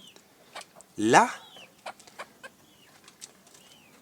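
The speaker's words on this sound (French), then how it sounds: "il y a deux poules, oui, deux poules qui ont déjà éclore" Hens clucking inside a wooden nesting box bedded with wood shavings, dry grass and straw: one loud rising squawk, then a string of soft, close clucks and chirps.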